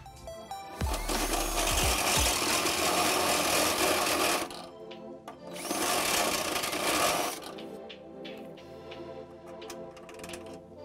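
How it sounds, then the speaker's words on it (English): A step drill bit grinds through metal to enlarge an access hole for a trailer hitch on a 2021 Nissan Sentra. It comes as two loud, harsh stretches of drilling, then fades to a quieter ringing and scraping. "We will need to enlarge it with a step bit."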